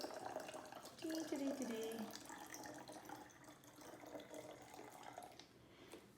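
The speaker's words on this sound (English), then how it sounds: "you're going to add your 2 cups of water to one of your water bottles" Water poured from a measuring cup into a plastic water bottle over a tray, a short gurgling fill in the first two seconds, fairly quiet against room noise.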